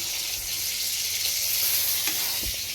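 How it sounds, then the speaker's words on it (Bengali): Pointed gourd fries in a pan of oil, giving a steady close sizzle with a few faint stirring clicks. "এখানে পটল ভাজা হচ্ছে"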